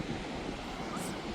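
Waves at Baleal Beach in Peniche wash against the shore as a steady broadband roar of surf, with wind buffeting the microphone throughout a short stretch.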